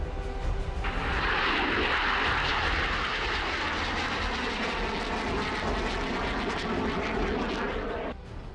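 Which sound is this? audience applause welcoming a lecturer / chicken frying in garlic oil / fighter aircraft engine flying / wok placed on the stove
fighter aircraft engine flying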